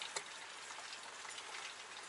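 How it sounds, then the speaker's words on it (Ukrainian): Light rain falls outdoors as a faint, steady hiss of fine patter with a few soft drops, continuous and distant with no voices. "У нас падає дощ трошки."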